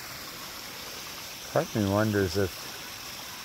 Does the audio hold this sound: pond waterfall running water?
yes